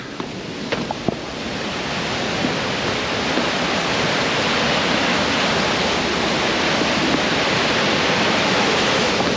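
A waterfall roars in a steady, loud, unbroken wash of rushing water heard up close, with a few faint knocks early on and no voices.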